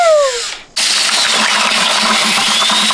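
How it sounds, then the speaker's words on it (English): A power drill whirs steadily with a gritty, churning broadband noise as a paddle mixer stirs thick concrete, after a brief higher whine and a short pause. "I'm gonna put the mixer thingy onto the drill and then it'll mix it up a lot faster"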